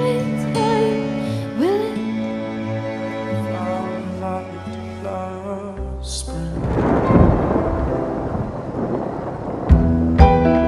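Rain and thunder in a dramatic romantic film scene: music plays at first, then a rushing downpour and deep thunder rumble swell up in the second half and fill the space.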